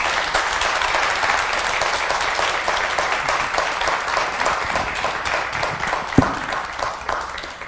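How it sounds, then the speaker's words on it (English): Sustained audience applause for speakers at an evening speaker series event: a dense, even clapping from a crowd that holds steady and begins to thin toward the end. "Let's give our speakers a round of applause."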